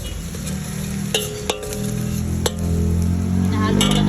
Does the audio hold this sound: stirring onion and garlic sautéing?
yes